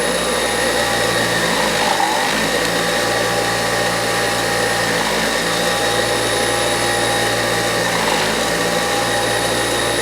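A bench grinder with a faulty power switch runs steadily, its wheel scrubbing rusty bolt threads as the part is worked back and forth; a continuous, loud whine and rough grinding hiss with no voices.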